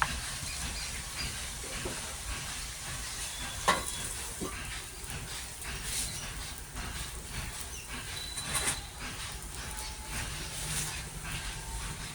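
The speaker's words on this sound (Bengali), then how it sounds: "এবার দেখতে থাকো, আমি চপগুলো ভেজে নিই।" Chops frying in a pan alongside a pot of taro greens on the stove, a quiet steady sizzle and hiss with a few soft stirring clicks, no voices.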